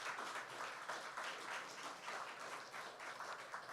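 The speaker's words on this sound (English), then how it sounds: "I ask you to give them an initial round of applause to thank them for their service to our country." Applause at a public ceremony unveiling designs for a new hospital, heard as distant, steady clapping from a sizable audience, faint and uniform with a soft washy texture.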